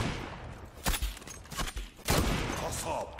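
Gunfire rattles in the online shooter Zula, several loud close bursts of rapid shots with short gaps between them.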